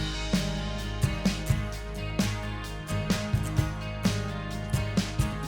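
Guitar riffs, bass and drums play together in a full band mix, with steady drum hits punctuating a dense, sustained guitar and bass bed at a moderate level.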